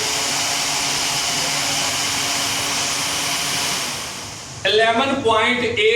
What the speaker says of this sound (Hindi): तो ये रेडिएटर की मोटर चल गई है।